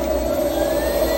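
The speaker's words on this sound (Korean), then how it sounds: "바퀴가 돌다 말다 하니까 지금 엔진이 울컥거리는 모습이 보이죠." A Kia K5 hybrid sits raised on a lift with its engine running and stuttering, heard as a steady loud drone with a strong sustained hum and faint rough pulsing, with no voices.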